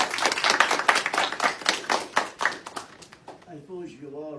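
A small audience claps for a war veteran about to share his World War II stories, with brisk, fairly close applause that thins out and fades as a voice begins speaking.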